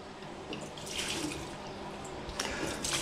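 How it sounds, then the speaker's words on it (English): Water is poured from a container into home-brewed moonshine to dilute it, a close, continuous splashing trickle that swells slightly and keeps running without any talk. "we put in 1 litre of water"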